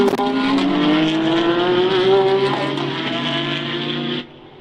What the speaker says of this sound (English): This is Peter Kokula actually between between those two GT Cup cars, and we have another car off the track.